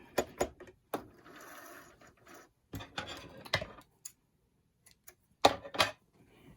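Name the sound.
sewing machine stitching fabric mask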